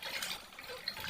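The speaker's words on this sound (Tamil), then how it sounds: "மறுபடியும் தண்ணி ஊற்றுறோம்." Water pours steadily into a fish curry cooking pot with a continuous splashing, gushing rush, close by, with no talking over it.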